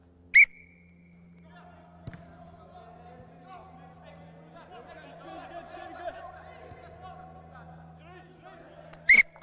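A coach's whistle gives a sharp short blast on a football training pitch, then the players chatter and move with light thuds, and a second shrill double blast ends it.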